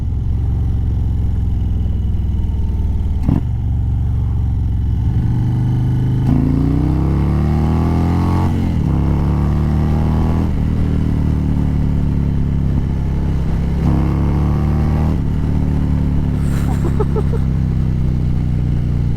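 An Indian ThunderStroke 116 V-twin motorcycle engine fitted with a Lloydz 585 cam, idling loudly close by and revving up and down in repeated throttle blips with a deep, rumbling note and some mechanical clatter.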